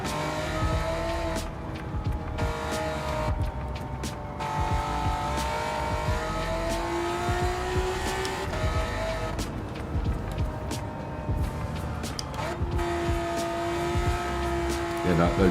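A Ford Mustang GT350 in Gran Turismo 7 races around a track with a steady engine drone whose pitch climbs and drops through gear changes, under a voice talking.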